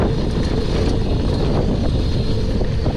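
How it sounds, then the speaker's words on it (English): Wind roars loudly and constantly across the microphone while a jump bike is ridden on a freeride line. The buffeting is low and rumbling and fills the whole moment. "Oh, we're going into the wind now."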